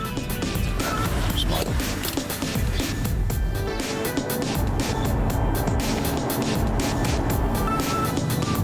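Interior drone of a BMW M5 Touring on the road from Portsmouth to Valencia, a steady loud engine and tyre rumble with wind noise filling the cabin throughout, no pauses or talk.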